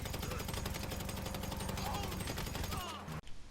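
Steady rapid automatic gunfire in a video game, pouring bullets into a moving enemy, a dense even stream of shots that cuts off abruptly near the end.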